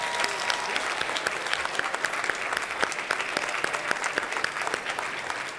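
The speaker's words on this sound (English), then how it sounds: "One more round of applause for all the nominees as well." An awards-ceremony audience at the 3rd Annual Impact Awards claps for the nominees, dense sustained applause from a large crowd filling the whole stretch.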